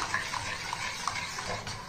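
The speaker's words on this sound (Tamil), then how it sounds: "இப்போ இதை எல்லாத்தையும் நல்லா மிக்ஸ் பண்ணிக்கிடுவோம்ப்பா" A ragi milk mixture with sugar and powdered cardamom being stirred, with soft, steady scraping and liquid swirling close by over a faint background hiss, with no voices.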